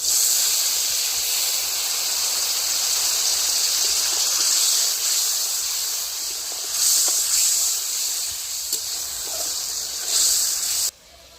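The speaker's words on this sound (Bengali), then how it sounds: "আমি জল দিয়ে কষিয়ে নিচ্ছি।" Spice paste with turmeric fries in a pan with added water, giving off a steady, fairly loud hissing sizzle that swells and eases in waves, ending abruptly.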